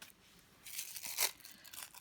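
Soft crinkling of tissue paper close by, a few light rustling bursts with one louder crackle in the middle.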